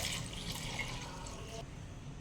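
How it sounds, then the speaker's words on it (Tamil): Water is poured into a pressure cooker holding chickpeas, onion, tomato and chilli powder for a curry, making a close, steady splashing stream that stops abruptly after about a second and a half. "தேவையான அளவு தண்ணி ஊற்றிட்டேன்"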